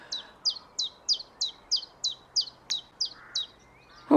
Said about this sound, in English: That's the song of a chiff-chaff.